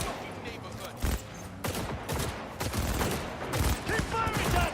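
Firefights in Cyberpunk 2077 bring dense, overlapping gunshots and bursts of automatic fire, with sharp cracks scattered through a noisy battle while voices shout over the combat.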